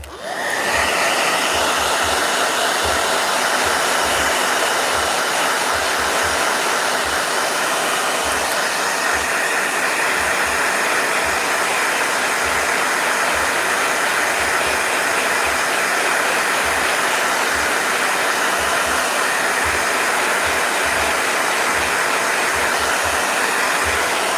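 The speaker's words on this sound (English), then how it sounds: "Blow dryer." A blow dryer blows loudly and steadily for the whole stretch, a constant airy whir with a faint rhythmic thump underneath.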